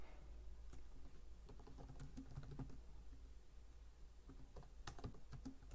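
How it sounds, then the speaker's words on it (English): Quiet, steady typing on a computer keyboard during a coding session, a continuous patter of close key clicks over a low hum, with no talking. "I guess I'll just type that in manually."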